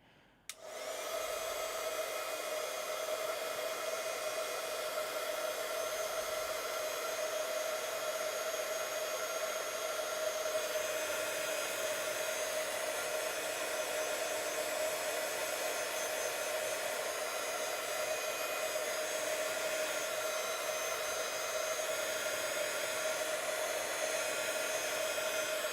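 A hair dryer switches on after a brief pause and blows with a steady whirring drone that holds unbroken for the rest of the clip. It sounds close, and no one talks.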